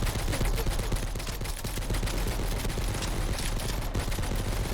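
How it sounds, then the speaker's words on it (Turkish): Rapid, dense gunfire fills the whole stretch loud and close, a relentless barrage of shots from a pump-action shotgun and other weapons in a military combat video game about the Afrin operation. "Şu pompalıyı bir test edelim mi üzerinizde?"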